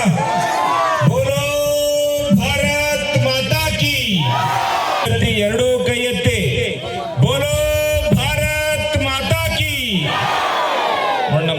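A large village-fair crowd at the jatra mahotsava in K Palya village, Shankaranahalli panchayat, roars 'jai' cheers in loud, repeated bursts of many voices shouting together.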